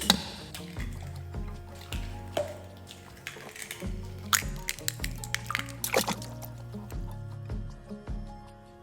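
Four eggs cracked for a Finnish apple pie batter: a series of sharp shell taps and cracks with small wet drips and splats into a bowl, close and fairly quiet.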